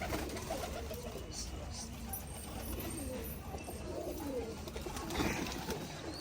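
Domestic pigeons in Rajkot, Gujarat cooing in low, throaty, overlapping calls against a dense outdoor background, with faint voices and other activity nearby.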